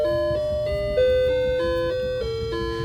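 Melodic bell tones from a home clock chime ring out one after another in a steady tune, each note overlapping the last, loud and close with a faint background hum.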